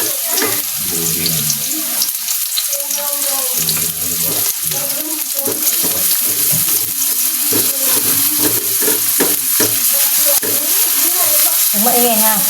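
Garlic and onion sizzle loudly as they are sautéed in a hot pan for a Filipino tortang talong with ground meat and Spam. The frying hiss runs steadily and close throughout, with clatter and stirring noises and a voice heard briefly.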